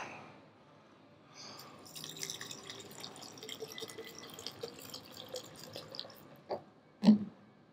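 Water pours into a shaker bottle at a gym: a quiet stream trickles and splashes for several seconds, then a couple of sharper drips or knocks come near the end, with no talking.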